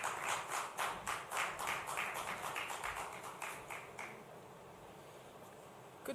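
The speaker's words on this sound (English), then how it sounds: "A round of applause, please, for Mrs. Buki Maye as she comes to give the opening prayer." Audience applause at an AHEM Nigeria gathering as a woman steps up to give the opening prayer: a steady, soft patter of many hands from a distance that thins out after about four seconds into quiet room tone.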